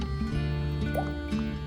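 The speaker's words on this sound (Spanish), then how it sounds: "Y luego colamos de nuevo el líquido de huevo con sopa de Maruchan" Egg and Maruchan soup liquid is strained in a kitchen, giving a soft, steady trickle and faint dripping close by, with no talking.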